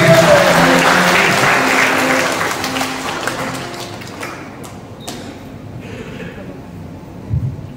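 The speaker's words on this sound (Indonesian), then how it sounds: "Kita tepuk tangan yang mulia bagi Kristus." A church congregation applauds during a Christian worship service, loud and full at first, then gradually thinning and fading away over several seconds in a reverberant hall.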